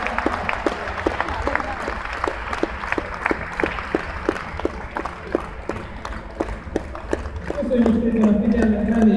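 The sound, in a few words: audience applause for the technician Attila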